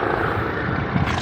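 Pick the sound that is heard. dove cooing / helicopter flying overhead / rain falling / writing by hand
helicopter flying overhead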